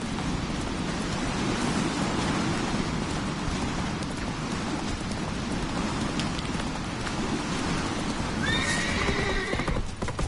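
Horse galloping and neighing in The Witcher 3 video game: close, fast clip-clop hoofbeats under a constant rain-like hiss, with a high whinny near the end.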